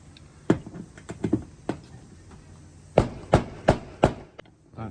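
A hammer strikes an old metal window frame while a through-wall rattler air conditioner is being removed: a few scattered sharp whacks, then four heavy evenly spaced blows close by, with no talking.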